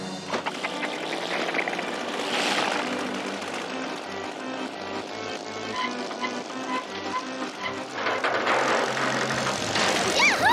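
Cartoon propeller airplane revving up for takeoff, a steady engine drone with whooshing sweeps and busy musical sound effects layered over it, loud and continuous throughout.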